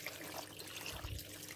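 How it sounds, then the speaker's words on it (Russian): Purified water pours onto peeled apricots in a pot on a gas stove, a steady splashing trickle with a brief heavier gush partway through, close and alone. "и добавляю просто обычной очищенной водой"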